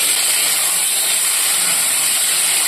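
Potatoes frying in hot oil with salt, turmeric, cumin paste and ginger paste for mochar ghonto, a loud steady sizzling hiss throughout, close and continuous, with no talk.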